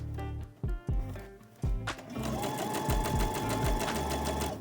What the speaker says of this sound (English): Now using that super narrow zigzag stitch, sew all along the hem, folding the hem up by a centimeter as you go.